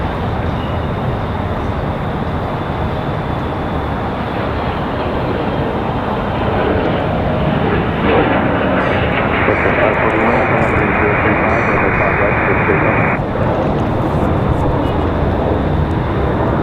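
An American Eagle airliner touches down or departs at Raleigh-Durham airport, its loud, steady engine roar filling the scene with a brief brighter whine partway through, under intermittent nearby talk.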